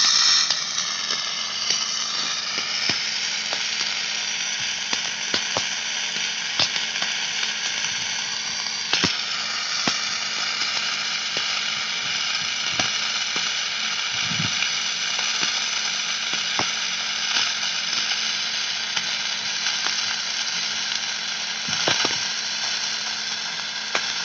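A MIG welder runs a continuous bead along a metal edge, giving a dense, steady crackling buzz with frequent sharp pops and spatter ticks, close and sustained with no talking.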